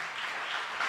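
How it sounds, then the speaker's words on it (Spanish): Dense, steady church congregation applause with broadband clapping filling the brief moment, loud and continuous. "Denle un aplauso fuerte al Señor."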